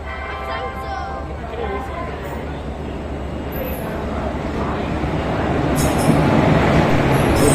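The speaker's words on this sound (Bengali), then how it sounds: "এই ট্রেন ঢুকে গেল। ট্রেন ঢুকছে" A passenger train pulls into a station on the way to Tarapith, a steady low rumble of wheels and carriages that swells toward the end, with voices and platform bustle mixed in.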